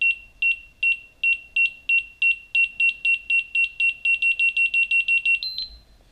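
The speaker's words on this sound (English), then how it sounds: "I can click through each alarm and it will show me what the alarm sounds like" A skydiving altimeter plays its alarm patterns, a run of sharp high beeps that starts as evenly spaced pulses and speeds into rapid bursts before ending on a longer tone, close and clean with no talk.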